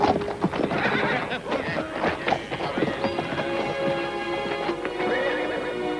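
Several horses whinny loudly and hooves clop steadily on the ground, a dense, close herd sound filling the whole stretch, with a voice briefly audible beneath.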